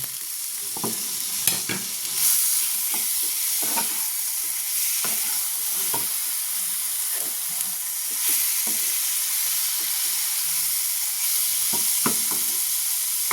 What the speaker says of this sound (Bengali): এবার আমি দিয়ে দেবো এর মধ্যে টমেটো কুচি আর দেবো কাঁচা লঙ্কা কুচি